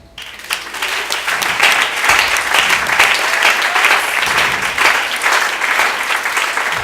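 A church congregation applauds during a Spanish-language worship service, giving sustained, dense clapping that starts abruptly and holds steady and loud throughout.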